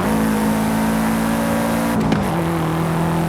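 Engine of an unmodified stock car in Forza Horizon 5 holding a steady droning note, then briefly cutting out on a downshift before settling into a lower, sustained tone.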